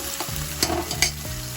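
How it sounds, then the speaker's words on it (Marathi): Onions sautéing in a pan for chicken masala until golden brown, a steady close sizzle broken by a few scraping stirs of the spatula and light clinks, with no voices. "कांदा लाल होईपर्यंत आपण परतूया। चांगला गोल्डन ब्राऊन झाला पाहिजे।"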